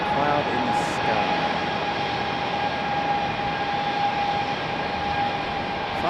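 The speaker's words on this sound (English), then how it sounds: "Finally, that JetBlue getting moved into their gate." A JetBlue airliner is moved into its gate at Raleigh-Durham International Airport, giving a steady, loud engine roar with a high whine that holds throughout, heard alone.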